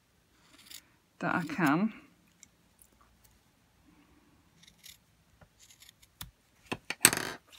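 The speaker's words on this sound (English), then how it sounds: "So I'm just going to cut the smallest bit off the end" Scissors snip the tip off a fabric glove being made into doll leggings: one short, close crunching cut with rustling handling, followed by quiet clicks and a brief spoken phrase.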